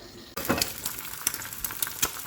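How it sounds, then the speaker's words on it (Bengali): Frozen roti and paratha hit hot oil with a sudden onset of sizzling that continues steadily, punctuated by a few brief crackles and pops close by. "পরোটা রুটি দুটাই ভাজবো"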